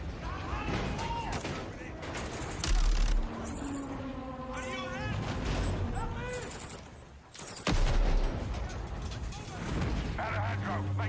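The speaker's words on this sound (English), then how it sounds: "Let's have ourselves a gunfight." Gunshots and bursts of fire in a video game gunfight on an oil rig, a few louder blasts breaking through over steady voices talking throughout.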